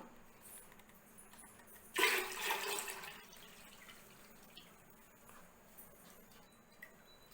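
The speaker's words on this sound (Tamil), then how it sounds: "இதில் இப்போ நம்ம அரைச்ச மாவை ஊற்றிடலாம்." Ground rice and sago batter pours into water in a pressure cooker with a sudden liquid splash and gurgle lasting about a second, then a quieter trickle over a low background hiss.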